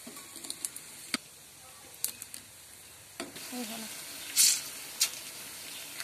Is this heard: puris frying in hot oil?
yes